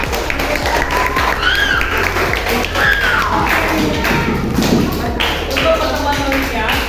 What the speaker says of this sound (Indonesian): Tepuk tangan untuk kelompok Y5.